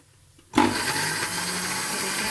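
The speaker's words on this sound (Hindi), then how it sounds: "इनको हम अपने ब्लेंडर के जग में डालेंगे और हम इसको ब्लेंड कर लेंगे।" A kitchen blender starts abruptly after a quiet moment and runs loudly and steadily, grinding frozen tomatoes into a paste with a dense whirring roar.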